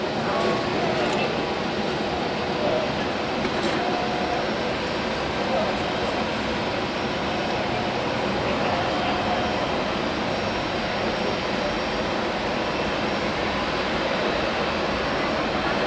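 Airplanes land and take off at Hamburg Airport, a steady distant roar of jet engines filling the air, with people talking faintly underneath.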